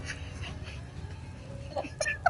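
Dogs whimper faintly indoors at home, giving a few soft, high, thin cries near the end over a low background murmur.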